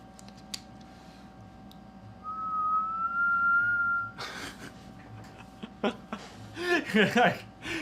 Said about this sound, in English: You know what my whistle is? This is my whistle.